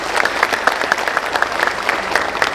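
An audience claps at a spoken gathering, with a lively, continuous patter of many hands across the whole stretch.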